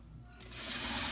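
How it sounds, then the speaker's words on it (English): A sewing machine stitches a fabric wristlet seam about an eighth of an inch from the edge, a steady whirring run that builds and grows louder toward the end, heard alone at close range. "Okay, so I'm sewing this at about an eighth of an inch."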